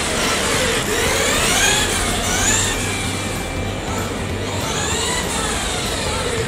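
A Team Associated RC10 Ultima radio-controlled car with new gold dampers runs a slalom, its motor whining steadily and loudly as the pitch rises and falls through repeated turns.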